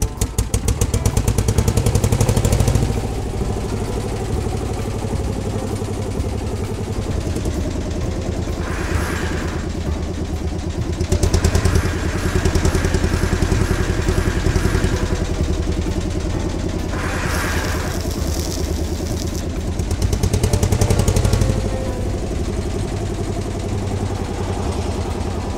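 A front loader tractor with a large, wide bucket runs its engine steadily throughout, a continuous low rumble and clatter that swells louder in a few short bursts.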